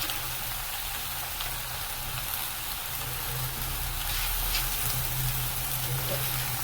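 Onion and garlic frying in a small pan: a steady, soft sizzle and crackle running continuously at moderate closeness, with no talking.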